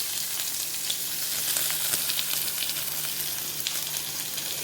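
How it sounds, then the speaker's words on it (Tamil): Onion and curry leaves fry in hot oil with mustard seeds and urad dal while cabbage poriyal is being made, giving a loud, continuous close sizzle with faint crackles. "வெங்காயம், ஆனியன், வெங்காயம், கருவேப்பிலை போட்டு தாளிக்க போகிறோம்"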